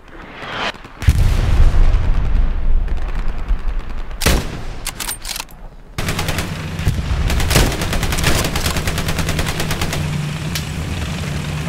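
Gunfire rattles through Hell Let Loose's battlefield: loud single cracks and bursts, then sustained rapid machine-gun fire with booming impacts, with no talk.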